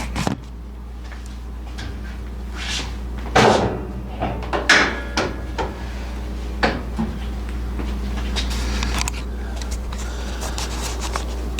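A 1968 Camaro door is rocked on its worn 48-year-old hinges, producing a run of close metallic clunks, knocks and faint creaks over a low steady hum, with sharper thuds clustered in the middle.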